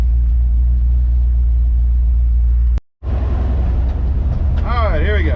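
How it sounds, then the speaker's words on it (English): A 1970 Dodge D100 pickup with a Holley carburetor drives along with a deep, steady engine rumble from inside the cab. The engine drops out briefly, then comes back under a voice talking. "we're going to drive again for a little bit just to make sure I still have third."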